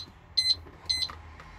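A motorhome seat security alarm gives two short, bright electronic beeps about half a second apart, close and clear against a quiet background.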